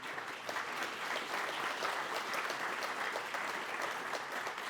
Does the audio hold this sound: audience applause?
yes